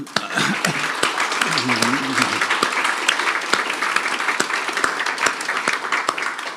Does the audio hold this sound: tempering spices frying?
no